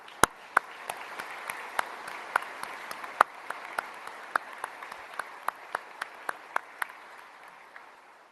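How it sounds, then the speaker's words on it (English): Applause for U.S. Southern Command at a change of command ceremony, a steady crowd clapping throughout with sharp individual claps standing out in a fairly regular rhythm, mid-distance and moderately loud. "Let's give Southcom a round of applause"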